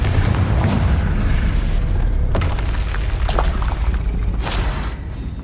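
The Confringo blasting spell explodes in the Hogwarts Legacy video game, a loud sustained booming roar with a few sharp cracks and bursts over a heavy low rumble.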